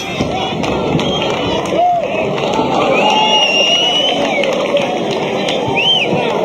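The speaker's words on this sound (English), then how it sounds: "You can hear the crowd." Boxing crowd at a world title fight cheers and roars steadily between the 11th and 12th final rounds, a dense continuous arena hubbub with whistles and shouts rising through it.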